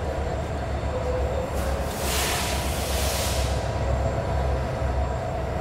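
Sonar Bangla Express train with its meter gauge 3000 series locomotive, a steady low rumble of the train with a broad hiss swelling briefly in the middle, continuous and fairly close.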